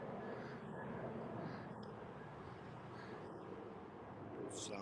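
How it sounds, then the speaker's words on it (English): A faint, steady broadband rumble of an airplane flying overhead, continuous throughout with no distinct peaks, heard from a distance. "there's a plane flying above us now."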